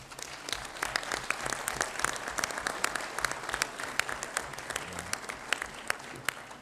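Applause from delegates at the CAF 45th Ordinary General Assembly for the candidate elected with 35 votes, a steady patter of many hands clapping at moderate distance, sustained evenly throughout.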